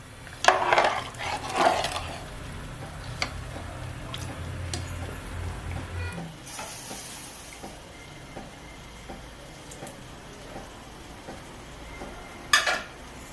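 Food being stirred and mixed in a cooking pot, with scraping and clinking of a spoon against the pot in bursts at the start and a sharper clatter near the end.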